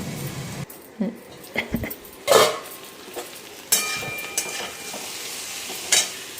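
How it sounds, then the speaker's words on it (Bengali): Chopped Malabar spinach stalks, potato, pumpkin and eggplant fry with salt and turmeric in a pan. Soft sizzling runs throughout, broken by irregular scraping stirs and occasional clinks of the spoon against the pan. "নুন আর হলুদ দিয়ে ওদেরকে ভালো করে ভাজা ভাজা করে নিচ্ছি"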